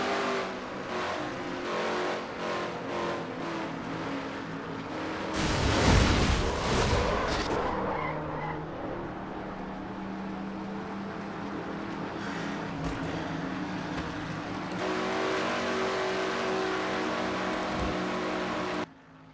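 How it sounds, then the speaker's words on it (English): Race car engines in a NASCAR racing video game, heard from an in-car camera during a Brickyard 400 race: a steady loud engine drone with a burst of crashing impact noise partway through, then continued engine roar, with no talking. "we have an in-car camera from Kyle Matthews' car"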